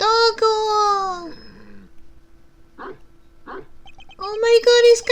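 A small dog in the video game Miles Edgeworth Investigations 2 gives a couple of short yipping barks, close and clear, amid quieter chirps and game tones.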